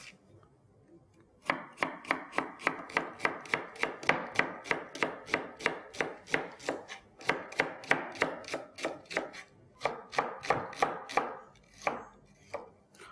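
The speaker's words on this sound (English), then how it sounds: "I'm going to slice them." Red onions being sliced with a knife on a board, a steady run of close, crisp chops falling in quick even rhythm with a few short pauses, alone without any talk.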